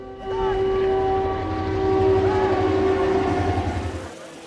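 A train rumbles past with a rhythmic clatter of wheels, a sustained horn tone sounding over it, loud and close before fading out.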